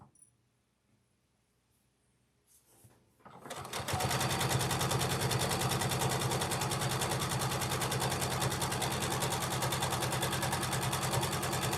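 A sewing machine stitching quilt pieces runs in a steady, rapid mechanical whir after a few quiet seconds with faint handling sounds, then continues loud and unbroken to the end.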